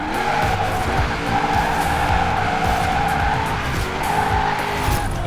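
A 2013 Toyota GT86 drifting in the racing game Forza Horizon 4, its tires skidding and squealing in a long, loud continuous slide over a steady engine drone, without talk.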